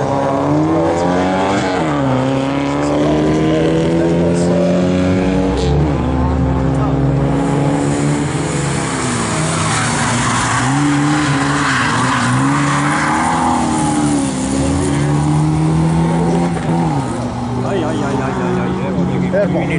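Rally cars racing in a folk sprint at Rapla, loud engines revving and shifting continuously with tyre squeal and skidding, close and sustained throughout, with a commentator talking over the noise.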